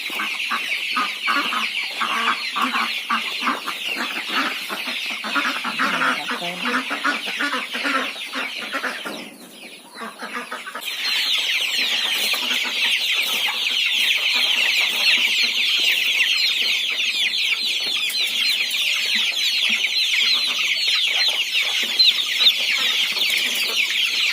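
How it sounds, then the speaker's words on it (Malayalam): Chickens clucking continuously on a Kerala farm with ducks and quails, a dense near flock of cackles and clucks that dips briefly mid-way before resuming loud and steady. "കോഴിയാണ് നോക്കിയേ"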